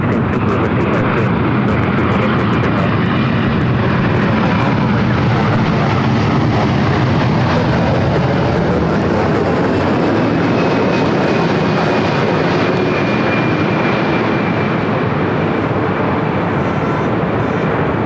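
A jet airliner departing Los Angeles International Airport, a Super-class aircraft bound for Dubai rolling down runway 24 left, roars loud and near in a steady continuous engine rumble with a faint high whine above it.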